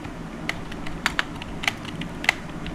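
Typing text into MS Word on a computer keyboard, scattered individual keystrokes clicking at an uneven pace over a low steady background hum, fairly close and moderately quiet.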